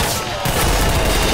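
Rapid continuous minigun fire in the game Garry's Mod, a loud dense stream of gunshots running without pause, with explosions and chaotic action underneath.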